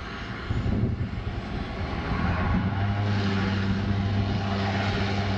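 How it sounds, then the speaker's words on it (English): Aircraft engines warm up at Vancouver airport, a loud, close, steady drone with a low throbbing hum that swells after a quieter opening and then holds. "They're all warming their engines up at the minute."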